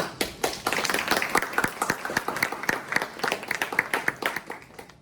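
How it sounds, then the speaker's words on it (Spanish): A small group claps for several seconds, the sharp claps loud and close, gradually thinning and slowing toward the end. "lo primero de todo es partir con un aplauso para todas esas personas."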